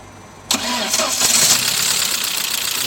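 A VW Passat B5 1.8 engine with knocking hydraulic lifters cranks briefly and fires up loud and close, then settles into a steady, slightly rough idle.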